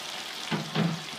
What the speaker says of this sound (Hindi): मज़ीद भून लेते हैं हम ताकि मसालों की खुशबू अच्छी तरह से आ जाए।